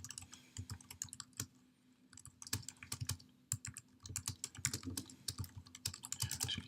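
Fingers tap quickly on a computer keyboard while a comment is typed into a case management system, a close, uneven patter of key clicks with a short pause before typing resumes.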